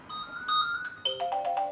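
Phone ringing at a dental practice: a clear electronic ringtone with tonal beeps that shift pitch partway through, close and alone for under two seconds.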